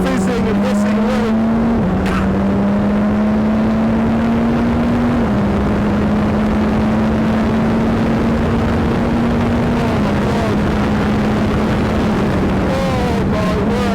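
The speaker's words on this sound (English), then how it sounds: "You got that turbocharged engine in the back, fizzing and hissing away." Turbocharged Radical track car on circuit at Silverstone, a steady loud engine drone heard from inside, pitch climbing in stages with brief dips at shifts and a hiss over the top throughout.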